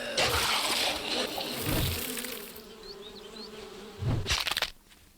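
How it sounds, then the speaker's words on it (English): Buzzing of bees hovering near, swelling and fading in loud waves, with a few faint chirps in the background, from the video game 7 Days to Die. "I really hate the bees."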